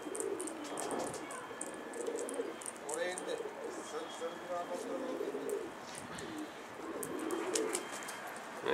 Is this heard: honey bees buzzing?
no